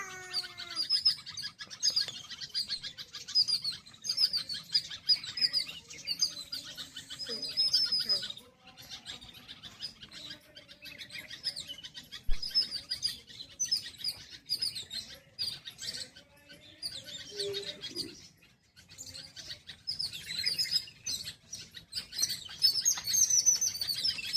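Sparrows chirp and tweet repeatedly in quick, busy bursts, fairly close, with brief pauses between flurries.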